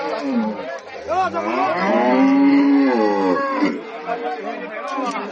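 Dairy cow mooing at the Raniganj cattle market, several long loud moos close by, with market chatter and voices in the background.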